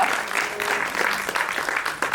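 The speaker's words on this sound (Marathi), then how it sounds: "वैशाली सामंतसाठी सुद्धा जोरदार टाळ्या." Loud, dense audience applause fills a Marathi film trailer launch event, steady clapping from a crowd with brief cheers, continuing throughout without a break.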